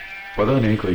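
Sheep bleating repeatedly from close by in a rural village setting, loud wavering calls over brief talk.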